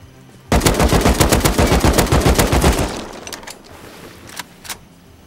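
A long, loud burst of rapid suppressed automatic gunfire in the survival video game Rust, dozens of crisp shots close by, then silence broken by a few scattered single shots.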